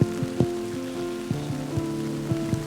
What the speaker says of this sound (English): Now it's raining hard.